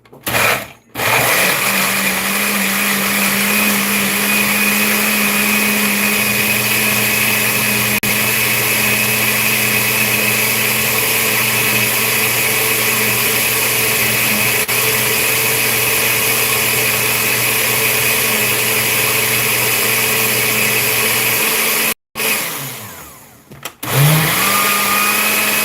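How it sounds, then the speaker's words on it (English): A kitchen blender whirs loudly and steadily for about twenty seconds as it purées beetroot with water into a drink, then cuts out abruptly and briefly restarts. "Let's go with our blender here."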